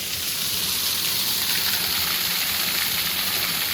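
Waterfall at Ban Na Ang, a steady broadband rush of falling water that stays loud and even, with no voices over it.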